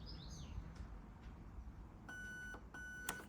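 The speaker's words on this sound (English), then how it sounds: "We're looking for 4 beeps." Two short electronic beeps from an airsoft HAL MOSFET/ETU programming unit, thin and high-pitched, sounding faintly over a quiet background hiss.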